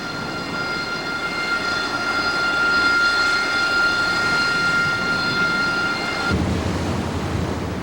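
A Harrier jet aboard the assault ship USS Saipan gives a loud, steady turbine roar with a piercing high whine, sustained for several seconds before the tone shifts abruptly near the end.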